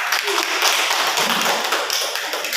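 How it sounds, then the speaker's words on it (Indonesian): A classroom of students applauds a classmate, a dense burst of many hands clapping at close range that holds steady for a couple of seconds. "Beri aplaus untuk Herdian."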